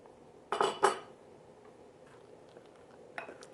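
A couple of quick clinking scrapes of a utensil against a bowl while stirring vegan cornbread batter with flax egg, then faint tapping and one more light clink near the end, close and fairly quiet.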